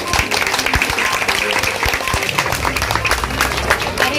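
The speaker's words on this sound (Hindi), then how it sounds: "मैं आप सब लोगों से इनके इस काम के लिए जोरदार तालियां बजाने की अपील करता हूँ।" An audience at a Samajwadi women's cell umbrella distribution event in Mumbai applauds loudly and steadily, with scattered sharp claps and crowd murmur throughout.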